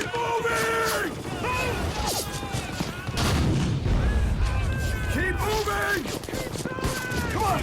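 Booming artillery and gunfire sound through a World War II combat scene, with heavy blasts and bursts of fire mixed with shouting soldiers over several seconds.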